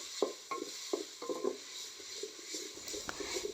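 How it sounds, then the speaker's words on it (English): Capsicum and carrots being stirred in a pan, with soft scraping strokes at an irregular rhythm over a quiet, steady sizzle, close by. "I'll give this a quick stir and cook for like about a minute."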